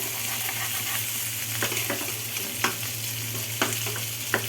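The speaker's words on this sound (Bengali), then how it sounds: "আমি দোনো পিঠ সুন্দর করে লট পালট করে ভাজি করে নিলাম" Tilapia fish fries in a pan with a steady close sizzle, broken by a few sharp clacks and scrapes as the pieces are turned, with no talking.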